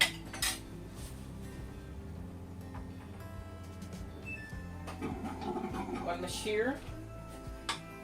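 Cooked yams being lifted from a pot and sliced in a home kitchen, with clinking utensils, scraping against cookware and knife taps, while a voice talks over the clatter.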